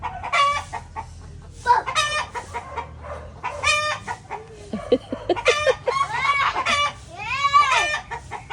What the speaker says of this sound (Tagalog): Kawawa, natakot yung manok.